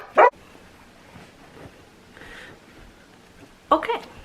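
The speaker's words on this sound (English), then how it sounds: "people sounding like they're coming up my driveway and the dog's freaking out" A house dog freaking out over people coming up the driveway gives two short loud bark bursts, one at the start and one near the end, with quiet room noise between.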